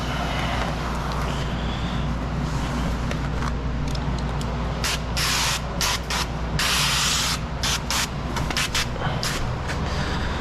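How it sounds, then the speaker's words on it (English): Continuous hissing spray from a spray bottle misting a 2000 Corvette window during tinting, with bursts of misting and some rubbing, steady and close, no talking. "spray it like that just to get any dust that's floating around."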